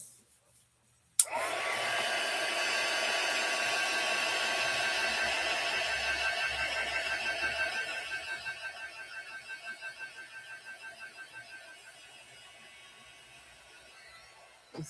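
A hair dryer blows steadily on a craft journal page decorated with Stickles glitter glue, switching on abruptly and running close and loud with a constant whine, easing slightly in level toward the end.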